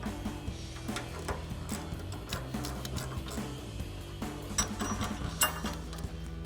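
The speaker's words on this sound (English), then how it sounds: "grab our 18mm wrench and our 1/4" ratchet with our 9mm deep" A 1/4-inch ratchet with a 9mm deep socket tightens a nut on a Silverado 1500 front coil-over install, giving steady rapid clicking close by over a low mechanical hum, with no talking.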